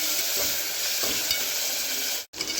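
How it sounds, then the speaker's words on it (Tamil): Tomatoes sauté in a hot pan with a dense, steady hiss of sizzling, close and even throughout, broken by a brief sharp dropout near the end, with no talking. "இப்போ சேர்த்துட்டு நல்லா கலந்து விட்டு தக்காளி பழம் நல்லா வதங்கிக்கணும் இப்போ வதங்கிக்கட்டும்"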